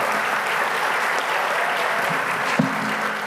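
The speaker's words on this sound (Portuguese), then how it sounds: "uma salva de palmas novamente" Audience applause during a faith-and-science panel, a steady dense wash of clapping that holds evenly for the full few seconds, with no voices over it.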